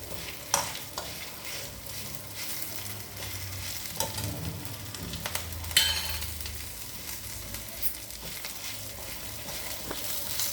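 Steady sizzle of tempering spices frying in hot oil before curry leaves go in, with occasional clinks and scrapes from stirring, close and continuous.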